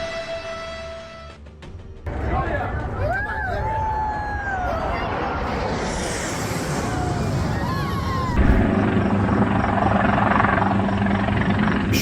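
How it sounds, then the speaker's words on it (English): A Schweizer 300 helicopter flies near Auckland's Viaduct Harbour, its rotor and engine producing a loud, continuous drone that rises and shifts as it moves overhead, with other background noise mixed in and no speech. "Auckland, helicopter crashes at Viaduct Harbor."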